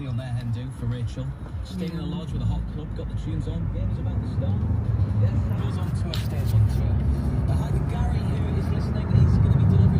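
A car drives toward a supermarket in the UK with a window open, giving a steady low engine and road rumble throughout, close and continuous, while people talk over it inside the vehicle.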